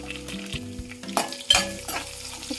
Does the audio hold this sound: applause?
no